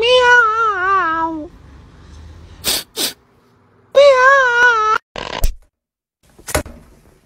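A human voice imitates a cat, giving a run of drawn-out, wavering meows in two bursts separated by short breathy noises and pauses.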